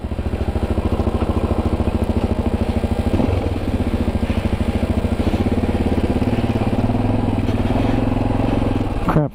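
A 1984 Honda XL350r single-cylinder motorcycle idles with a steady, rapid thumping putter, loud and close, holding an even rhythm before a brief rev near the end.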